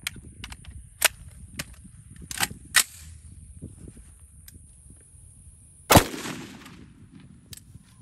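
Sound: Alexander Arms 50 Beowulf rifle shot, 350 grain FMJ

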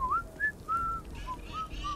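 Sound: whistling in the video game Starfield

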